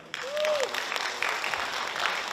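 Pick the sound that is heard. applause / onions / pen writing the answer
applause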